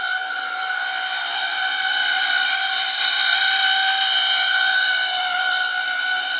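A loud, steady high-pitched whine with shrill whistle-like harmonics, growing slightly louder, from a tender-driven model locomotive running at full speed nearby, with no talking.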